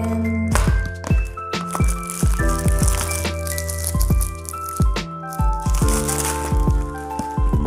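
A pack of three glycerin soaps is opened. Close, busy rattling and crinkling of packaging comes in quick irregular bursts throughout.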